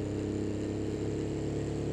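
A car engine in BeamNG.drive drones steadily near 4,000 RPM, a buzzy, strained hum that holds constant throughout, fairly quiet and with no talking.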